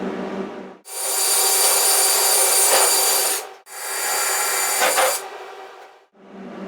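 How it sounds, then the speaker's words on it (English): A power drill bores out holes in the cracked steel bonnet of a Triumph Spitfire under restoration: two long, loud, steady whining bursts of several seconds each, separated by brief pauses, close to the microphone with no talking. "drill those holes out, and then get them welded up"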